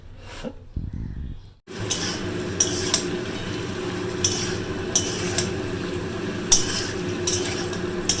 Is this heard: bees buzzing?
no